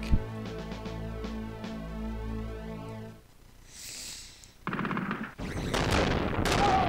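Rapid machine-gun bursts and gunshots from the Cannon Fodder video game, followed by a louder rumbling blast as a tank explodes, then more crackling fire, all close and loud without talk.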